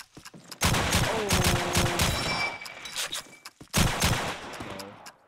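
Gunfire from the World War II shooter Call of Duty 2 during a competitive match: a burst of loud, rapid rifle and automatic shots, a lull, then another sharp volley near the end.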